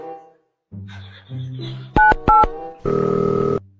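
A telephone is dialed, with fumbling handling noises leading into a pair of quick bright keypad tones, then a longer steady tone as the line connects.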